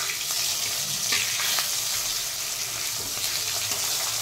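Pieces of hilsa fish sizzle steadily in hot oil in a home kitchen pan, a loud, continuous crackling hiss with occasional small pops.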